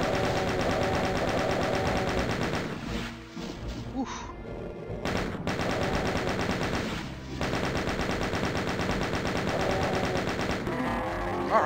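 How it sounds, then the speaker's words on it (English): A chaingun in Doom II fires at a Baron in long, loud, rapid bursts of close shots that pause briefly a few times before hammering on again, with demon grunts and impacts mixed in. "You know what, I'm gonna use a chain gun on him."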